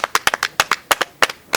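A small gathering at a community meeting claps briefly, a few sharp, loose, uneven claps close by over under two seconds.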